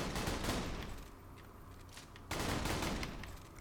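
Flare gun firing in the shooter game Borderlands: The Pre-Sequel: two loud, close bursts of crackling gunfire, the second starting about two seconds after the first, each tailing off into a fading rumble, with no talk.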